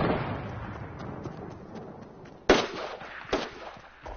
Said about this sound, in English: Someone just heavy sniped.